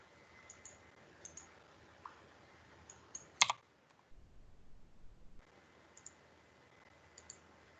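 Faint keyboard typing and mouse clicks while entering a value in an Excel spreadsheet, a scattered run of soft taps with one sharper click cluster in the middle, quiet and close with no talking.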